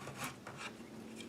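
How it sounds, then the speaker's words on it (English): A hand-held chisel, flat to the surface, pares a thin shaving from wood on a small bedside caddy, giving short, soft rasping scrapes in quick succession, close and quiet. "Holding the chisel flat to the surface, because it's, if things go right, it'll pare right off"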